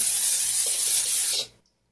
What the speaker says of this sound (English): Your cooking spray for. Cooking spray.